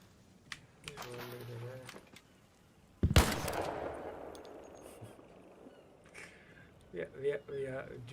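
A sharp burst of video game gunfire, one loud blast that decays into a rattling tail, heard amid quieter clicks and keyboard taps, with talking voices before and after.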